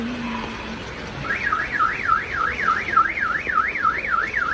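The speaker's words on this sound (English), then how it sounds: "Mga nag-a-alarm na yung mga sasakyan." A car alarm wails in a steady rising-and-falling siren, loud and continuous over a low background rumble, with a second tone briefly heard before it.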